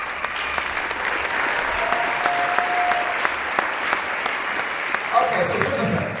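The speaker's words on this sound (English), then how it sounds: "Round of applause." Audience applause at a ceremony, sustained and even with many hands clapping together, a faint voice briefly audible underneath.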